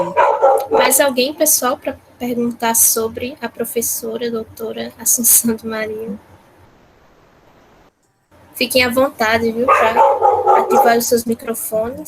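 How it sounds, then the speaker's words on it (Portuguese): A household dog barks intermittently in the background during an online lecture, its barks partly buried under continuous conversational speech from the people taking part. "E perdão pelo meu cachorro que está latindo."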